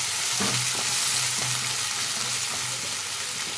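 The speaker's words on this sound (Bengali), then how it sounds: "পেঁয়াজটা ভালো করে ভেজে নেব আমি" Chopped onions frying in a pan after black cumin, a steady close sizzle broken by a few soft rhythmic spatula scrapes and taps, nobody speaking.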